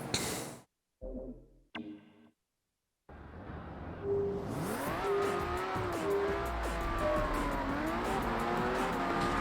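Race cars roar and whine with rising and falling engine pitch and tire squeal on a Paris track in an unreleased Lamborghini racing video game, with several short bursts first, then sustained loud racing noise.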